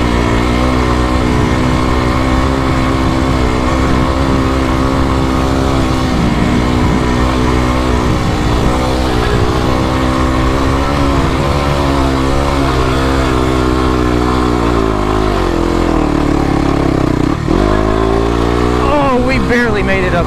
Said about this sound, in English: Oh, look at that bike go.